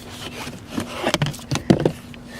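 A ratcheting wrench works on the bolts holding a car seat, giving a few scattered, fairly close clicks and scraping rubs against a quiet background.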